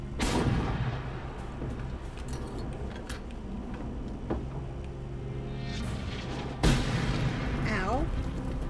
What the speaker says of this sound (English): Okay, now the tank will start shooting me.